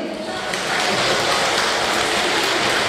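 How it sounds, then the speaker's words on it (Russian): An audience at a belly-dance studio concert breaks into loud, dense applause that swells after a moment and holds steady as a continuous wash of clapping, with no speech on top. "Аплодируем, определяем по громкости аплодисментов номер один."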